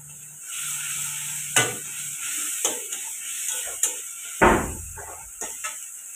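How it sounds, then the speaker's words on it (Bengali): Turmeric and chili paste sizzling in hot oil while fish tok jhal is cooked, a steady frying hiss with several sharp clinks and stirring knocks from a utensil against the pan, with no talk. "এর মধ্যে হলুদ আর লঙ্কা গুলানোটা তেলের মধ্যে দিয়ে দিলাম।"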